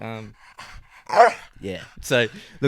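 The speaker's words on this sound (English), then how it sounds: "So yeah, that's my dog." A dog pants and lets out short barks and whimpers close by, mixed in with someone talking over it.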